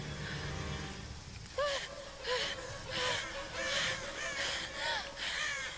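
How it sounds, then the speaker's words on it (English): Crows caw repeatedly in Tomb Raider (2013), a string of harsh calls at a steady rhythm over a dark, rumbling game ambience. "And then they add the crows in too."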